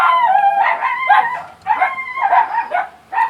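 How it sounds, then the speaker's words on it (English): Several dogs bark and howl together in a loud, continuous chorus of tonal yowls and yips, close by, with no talking. "right on cue, the dogs have started"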